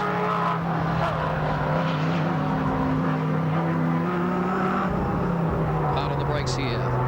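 Chrysler Viper race car with an 8-litre V10 and six-speed sequential gearbox at Sandown in 2002, a steady loud engine drone running throughout, held at constant pitch as it powers along the straight.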